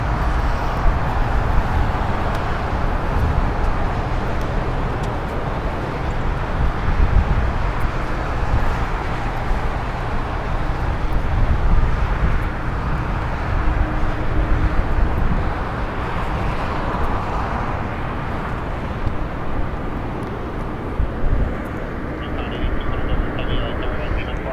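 A Sun Country Airlines Boeing 737-8 departs Los Angeles International Airport, its engine roar a steady moderately loud rumble throughout, with someone talking over it.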